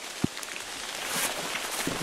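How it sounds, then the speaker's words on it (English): Rain falling at a campsite, a steady soft hiss of drops with a couple of brief heavier taps, moderately close and continuous. "Rain! Hooray!"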